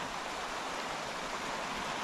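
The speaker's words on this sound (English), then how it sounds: "The water just goes right over this big rock in the middle." Steady, full rush of stream water pouring over and around a large rock in a wooded canyon waterfall setting in winter, a continuous broadband flow with no voices.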